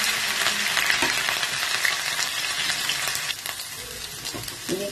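Ginger garlic paste with whole spices such as black pepper fries in a hot pan, a dense, steady sizzle close up with occasional stirring scrapes and no talk.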